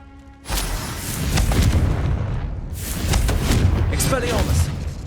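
A Confringo blasting spell goes off in Hogwarts Legacy during a fight: a sudden loud boom followed by rumbling, crackling blasts that swell again midway. Game audio and voices run underneath.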